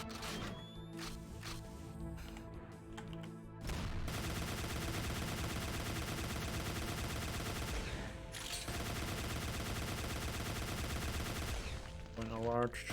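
Rapid, relentless automatic gunfire from an overpowered weapon in the Doom 2 mod Back to Saturn X, loud and dense for nearly the whole stretch, with brief pauses and game sounds mixed in.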